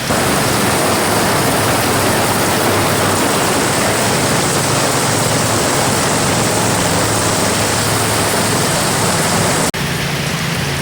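Heavy rain pours onto a flooded street in Ho Chi Minh City, a loud dense continuous hiss with no letup, briefly shifting near the end.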